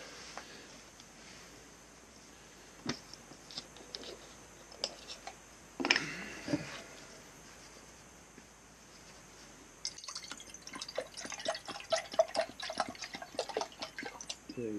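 Water runs and drips in short, sporadic splashes while chicken fried rice is being cooked, quiet and close, with a denser burst of trickling and ticking toward the end; no talk.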